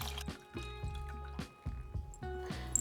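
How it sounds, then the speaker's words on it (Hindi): Warm and cold water poured over tamarind in a kitchen for a pepper rasam, heard as a few separate short pours with low gurgling bursts and brief pauses between them. "थोड़ा गर्म पानी, इसमें ठंडा पानी भी मिला देंगे"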